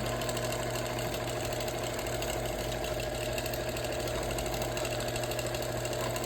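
A sewing machine does meander quilting on a wool quilt, running as a steady mechanical drone with a fast, even stitching rhythm throughout, fairly quiet and close.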